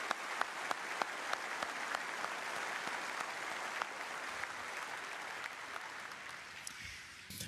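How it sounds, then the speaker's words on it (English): A large graduation ceremony crowd of graduates, parents and faculty applauds in a broad, even roar of clapping with a few sharper nearby claps, fading slightly toward the end. "give each other a well-deserved round of applause"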